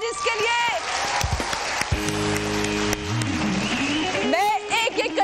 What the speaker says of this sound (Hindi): और भरपूर तालियां एक दफा मेरे जजेस के लिए।